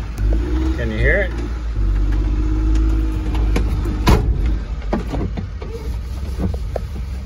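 A mini truck's engine starts up after the clutch is pushed in, then idles with a steady low rumble close by, while a person talks over it.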